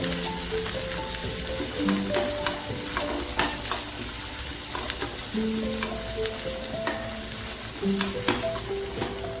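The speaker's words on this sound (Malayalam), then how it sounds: "നമ്മളിതിനകത്തേക്ക് ഒരു 10 ഉള്ളി ചെറുതാക്കി അരിഞ്ഞ് വെച്ച് കൊടുക്കാം." About ten finely chopped small onions fry in two teaspoons of ghee in a pan for Karkidaka kanji, a loud, continuous sizzle broken by sharp clicks of stirring, with steady tones running underneath.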